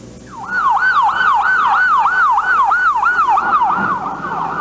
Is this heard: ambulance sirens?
yes